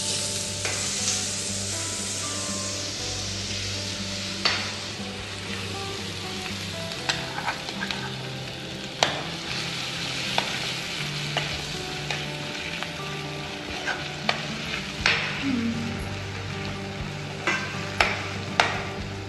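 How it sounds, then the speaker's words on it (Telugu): Fish curry masala frying in a pan while being stirred, a continuous loud sizzle broken by repeated scraping strokes and clanks of the spoon against the pan, no talking. "ఇది కొంచెం ఫ్రై అయ్యాలి ఫ్రై అయ్యాక ఫిష్ వేస్తాం"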